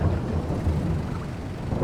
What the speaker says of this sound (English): Well, it is raining, so much for getting to harvesting right away.